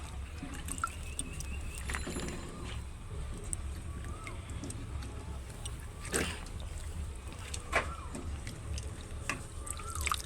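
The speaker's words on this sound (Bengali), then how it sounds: "এবার জলের মধ্যে আলুগুলো দিয়ে দেব। সব আলুগুলো দিয়ে দিচ্ছি।" Raw potatoes being prepared for homemade potato chips are dropped into a pot of water, making a few scattered splashes and plops over a steady low background rumble.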